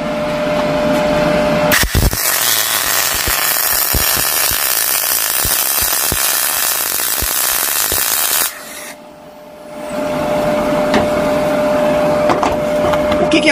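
A MIG welder runs with the shielding gas turned up far too high, giving a loud continuous crackling hiss for about seven seconds, then a brief quiet gap before another steady burst of noise.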